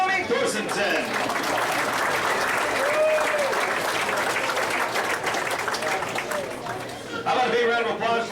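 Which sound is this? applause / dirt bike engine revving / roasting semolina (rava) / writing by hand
applause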